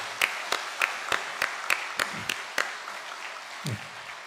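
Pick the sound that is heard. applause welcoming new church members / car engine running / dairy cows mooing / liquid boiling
applause welcoming new church members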